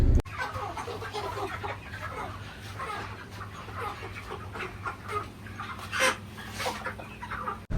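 Village chickens cluck in short, scattered bursts at moderate distance over a busy outdoor background with faint murmuring.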